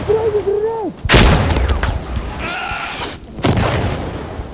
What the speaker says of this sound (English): Hey, I'm throwing a grenade.